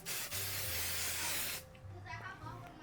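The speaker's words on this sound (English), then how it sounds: "I'm gonna put some 505 spray" A can of 505 temporary adhesive spray releases one long, loud, close hiss for about a second and a half, then stops, leaving low machine hum and quieter room noise.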